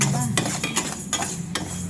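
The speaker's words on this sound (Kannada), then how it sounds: "ಅದಕ್ಕೆ ಜೀರಿಗೆ ಸಾಸಿವೆ ಹಾಕೊಳ್ಳೋಣ. ಇದು 25 ಗ್ರಾಮ್ ಇದೆ. ಸಾಸಿವೆ ಎಷ್ಟು ಬೇಕಾಗುತ್ತೆ. ಇದನ್ನು ಕ್ಲೀನಾಗಿ ಹುರ್ಕೊಳ್ಳೋಣ." Cumin and mustard seeds dry-roasting in a pan for mango pickle, heard as a close, busy rattle of seeds and stirring scrapes against the metal with a faint sizzle, no talking.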